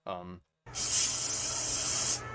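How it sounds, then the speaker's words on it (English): Hissing spray aimed at a huge spider in Australia: a steady, loud aerosol hiss lasting about a second and a half, alone after a brief burst of voice and a pause. "I can see spraying."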